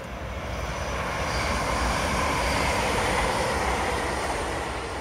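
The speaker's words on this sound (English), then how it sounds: "There's a train!" A loud, steady rumbling roar of a train passing nearby, continuous and broadband throughout with no voices.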